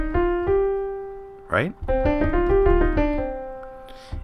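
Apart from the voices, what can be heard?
minor scale's first five notes played low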